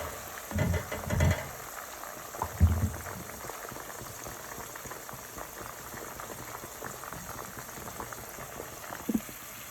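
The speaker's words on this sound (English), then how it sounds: "my onions, garlic, ginger, spring onions, star anise, bay leaf have been cooking for about 5 minutes" Onions, garlic, ginger, spring onions, star anise and bay leaf cooking in a pot, giving a steady low bubbling and simmering hiss with a few louder clunks and stirring knocks near the start.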